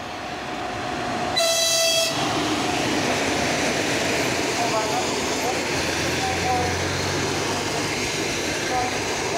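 A ChS4 electric locomotive hauls an Intercity train through a station at speed, a loud continuous rumble of wheels and cars with a brief sharp horn blast early on.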